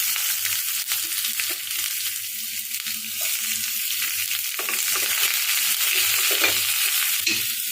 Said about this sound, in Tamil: மிளகாய் பொரிஞ்சு வந்ததும் வெங்காயம் சேர்த்துடலாங்க